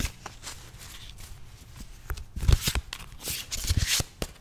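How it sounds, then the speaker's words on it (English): Close, crisp shuffling of cards in a quiet ASMR meditation setting, a soft rustling riffle that swells into louder, snappier bursts near the ears, with no talking. "Just listen to the shuffling sound first."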